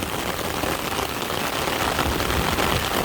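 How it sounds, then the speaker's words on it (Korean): Heavy rain drums steadily and densely on an umbrella close overhead during outdoor fishing, a continuous loud patter with no pauses. "제 우산에 비가 떨어지는 소리가 계속 들릴 겁니다"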